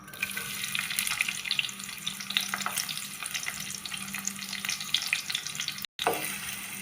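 Chopped onions dropped into hot coconut oil sizzle and crackle steadily at close range, with scattered pops and a short silent break near the end.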